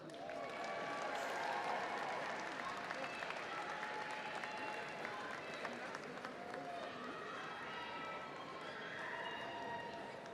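A large commencement audience applauds graduates at a university December ceremony, dense steady clapping and crowd noise filling the hall throughout with faint voices mixed in.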